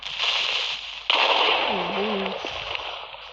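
A Minecraft creeper explodes in a single sudden crackling burst amid a hissy game soundscape, followed by brief tonal game noises.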